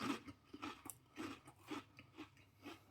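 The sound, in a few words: chewing crunchy Swiss snacks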